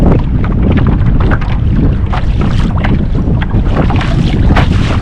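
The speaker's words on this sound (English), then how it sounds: "Right now, I'm just trolling along as we paddle" Kayak paddling on open water with a light chop: steady splashing and swishing of paddle strokes under constant wind buffeting on the microphone, loud and close.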